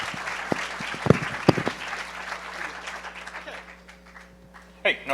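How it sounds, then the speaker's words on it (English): An audience at a hacker conference applauds panelists after a talk on e-voting, scattered claps and crowd noise that fade out, with people talking over it and a burst of sound near the end. "give them a big round of applause, Sandy and crew"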